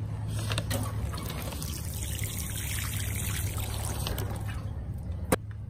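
Water trickles and pours steadily onto freshly transplanted plant cuttings in pots, a soft continuous splashing close by, ending with a brief knock near the finish.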